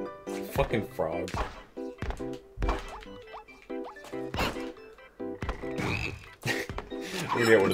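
A cartoon frog croaks repeatedly in the co-op platformer game BattleBlock Theater, loud deep croaks and thunks mixed with in-game effects and excited players talking over them.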